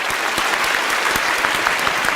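Studio audience at a Turkish televised word-game contest breaks into steady, dense applause, loud and close, with many hands clapping together and no voices over it.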